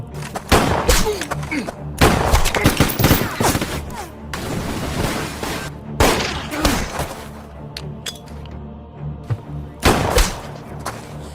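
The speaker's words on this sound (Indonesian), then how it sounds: "Kemudian dia pun menembak Roman dan Pedro." Bursts of gunfire from a film shootout, with sharp shots and heavy booms in clusters through the scene over dense background sound and some voices.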